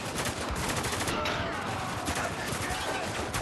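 Gunfire in the video game Spec Ops: The Line, a dense, continuous barrage of shots filling the whole stretch at steady loudness, with a voice talking over it.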